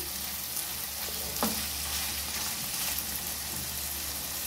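Liver frying in a pan with hot pepper and garlic, Alexandrian style, gives a steady, close sizzle with a brief stir or scrape partway through and no talking.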